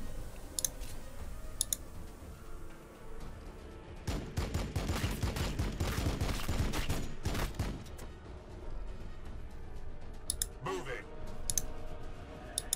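Intercessor squads firing in the Warhammer 40,000: Battlesector strategy game, a dense burst of rapid clattering gunfire in the middle stretch with scattered clicks and tones around it, a voice talking over parts.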